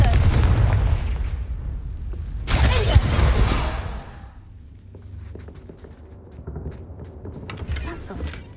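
A Confringo fire spell cast in Hogwarts Legacy, a loud burst with a whooshing blast at about the three-second mark over rumbling game ambience, settling into quieter background noise afterward.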